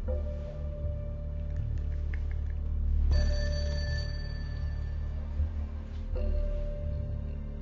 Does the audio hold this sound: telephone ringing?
yes